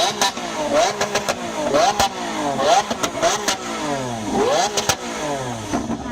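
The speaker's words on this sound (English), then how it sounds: "give it full throttle and loads of revs and let's hear the V12 Lambo" A Lamborghini V12 engine revs hard at full throttle again and again at a supercar parade, rising and falling in sharp bursts, loud and close, with voices faintly underneath.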